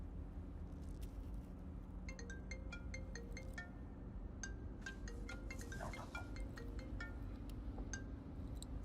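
A phone rings with a repeating electronic chime pattern of short bright tones, fairly quiet over a steady low background hum, continuing for several seconds with no talk.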